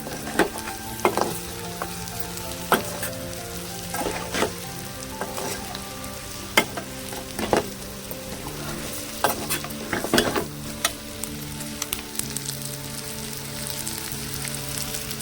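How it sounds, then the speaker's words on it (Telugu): Boiled eggs stirred through onion masala curry in a pan, with an irregular series of clear spoon-against-pan scrapes and knocks over a steady sizzle of frying. No voices. "బాయిల్డ్ ఎగ్స్ ఉన్నాయి కదా, వాటిని వేసి కొంచెం తిప్పుదాం."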